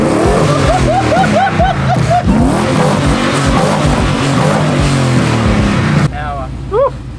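A car engine and exhaust rev repeatedly while it warms up, loud and close, with rising and falling whines over a deep rumble; voices come in near the end as the engine settles.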